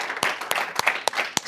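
Scattered claps from an audience welcoming a guest onstage at a Main Uttarakhand Hun episode, sparse and uneven rather than a full ovation, fairly close and alone without talk.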